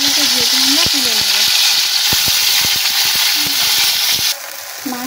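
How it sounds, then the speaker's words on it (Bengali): Spice-coated lote fish fries in hot oil with a loud, steady sizzle. Occasional utensil clinks cut through it, and the hiss drops noticeably near the end. "মশলা মাখানো মাছটাকে আমরা আবার দিয়ে দেবো, দিয়ে ভেজে নেব।"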